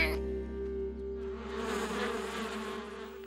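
Bees swarm around a beehive in a cartoon, making a steady, droning buzz that swells gradually over low sustained musical tones.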